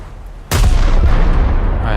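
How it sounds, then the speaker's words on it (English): Ship gun turrets firing in a naval video game: a single sudden loud boom from heavy guns, followed by a long rumbling decay that lingers close and full. "these guns are really nice because they just detonate ships you don't expect to detonate"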